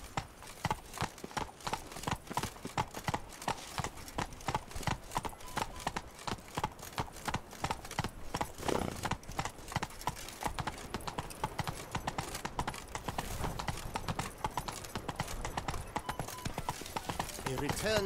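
Hooves of Geralt's horse Roach in The Witcher 3 beat in a fast, rhythmic gallop that continues throughout, faint overall, with speech heard over the hoofbeats.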